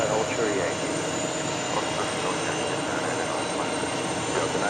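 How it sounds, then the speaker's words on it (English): Jet engines of an SAS Airbus A321neo LR at New York JFK airport give a steady, dense roar throughout, with faint voices underneath. "That's an SAS A321neo LR"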